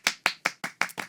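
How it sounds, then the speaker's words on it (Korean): Six sharp claps land at an even, brisk rhythm, close and clear with nothing underneath, greeting a musical theatre number. "박수로 청해 듣도록 하겠습니다"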